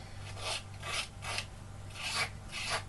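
The cut edges of a craft strip are roughened by rubbing, making soft, repeated rasping scrapes in a slow back-and-forth rhythm, close and quiet with no talk.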